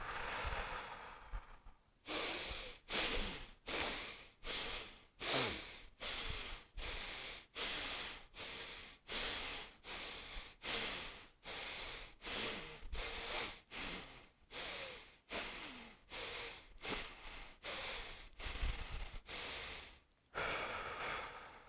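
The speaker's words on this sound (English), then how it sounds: "Last round, and we'll begin exhaling, letting everything go." Rhythmic yoga breathing during a morning flow, a long series of steady, close, forceful breaths through the nose, each a short puff repeating about every second, loud and alone with no talk.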